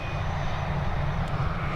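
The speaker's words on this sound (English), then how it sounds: "we're heading over to Berlin now with this Airbus A320" An Airbus A320 airliner departing Dublin Airport for Berlin sends out a steady, broad engine roar, continuous and moderately loud with no talk over it.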